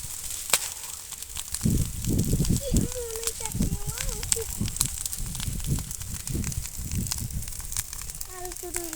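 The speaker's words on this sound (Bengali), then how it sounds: "এখন বাতাস আসছে আর টাস টাস করে ফুটতেছে" Weeds burning in a crop field with a constant hiss, scattered sharp pops and crackles, while a person speaks over it; wind-like rumble underneath.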